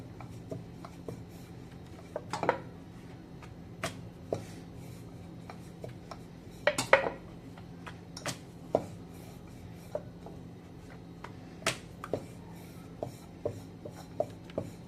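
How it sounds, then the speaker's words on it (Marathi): Chapati dough rolled out with a rolling pin on a board, the flatbread flipped over partway and rolled again, giving soft close-up rubbing and scraping with scattered wooden taps and knocks, no talking. "पलटी करून लाटली की व्यवस्थित सगळीकडून लाटली जाते"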